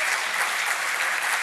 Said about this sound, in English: I'm used to getting an applause here